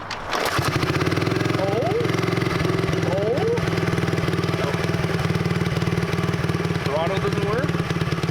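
An abandoned dirt bike engine catches and keeps running, with a loud, steady idle putter throughout and brief rises in revs, while people talk over it at close range.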